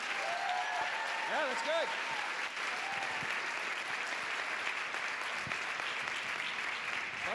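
Steady conference audience applause at moderate level runs throughout, with a brief voice speaking over the clapping early on.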